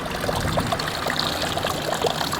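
Water runs continuously from a drinking fountain on a street in Orange, France, making a close, steady splashing trickle with small bubbling irregularities and no speech.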